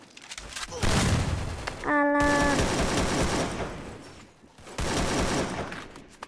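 Automatic gunfire from the video game Free Fire, played in a ranked Clash Squad match, rips out in three dense, loud bursts separated by short gaps, with a player talking over the shooting.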